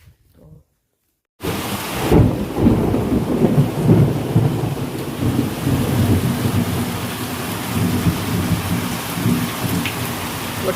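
Heavy rain pours steadily after a quiet start, with deep rumbles of thunder rolling underneath the constant downpour.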